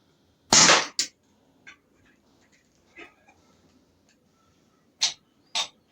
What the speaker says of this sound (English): I'll just keep on banging some through it. Do a few sort of sets of 6